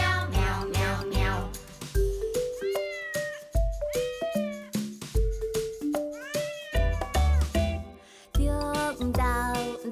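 A voice imitates a cat with a long string of sung meows, rising and falling over a tuneful musical backing.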